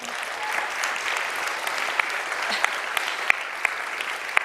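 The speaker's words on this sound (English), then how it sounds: "We should give him a round of applause for that, too" Steady applause from an audience at a political event fills the space at moderate volume, with a few sharp individual claps standing out near the end.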